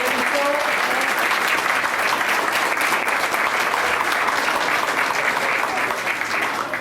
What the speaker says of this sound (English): How about another round of applause for all of our students performing here tonight?